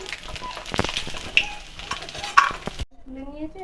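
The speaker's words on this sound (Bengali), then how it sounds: "আর ফোড়নে দিয়ে দিচ্ছি তেজপাতা, শুকনো লঙ্কা, জিরে" Bay leaf, dried red chilli and cumin sizzle and crackle in hot oil as they are stirred, with scattered pops over a steady fry that cuts off abruptly near the end.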